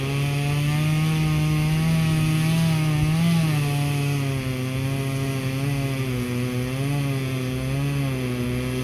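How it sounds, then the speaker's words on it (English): A chainsaw runs continuously at close range, its buzzing engine note wavering up and down as the throttle shifts. "Sorry about the noise if it bothers you. It's a chainsaw."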